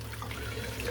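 A shaving brush rinsed under running tap water makes a faint, steady stream of water hissing and splashing for about a second.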